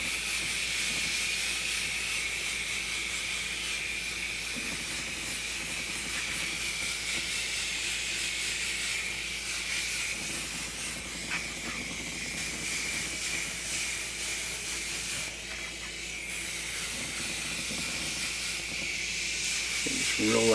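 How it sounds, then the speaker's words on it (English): An airbrush sprays thin yellow washes onto a grey-skinned rhino sculpture, a steady close hiss lasting throughout with slight variations. "I'll airbrush on some washes, some of these different yellows and different washes in some select areas according to my reference."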